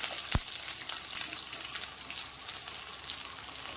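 Onion, green chillies, garlic and ginger sauté in a hot pan with a continuous close sizzle and faint crackle, plus a single sharp clink near the start; no one speaks.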